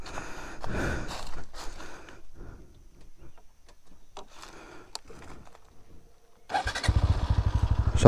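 A 2024 Bajaj Pulsar NS 160 fires up after some quiet clicks and handling noises, then settles into a loud, steady, rapid idle thrum close by.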